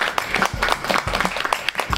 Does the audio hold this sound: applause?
yes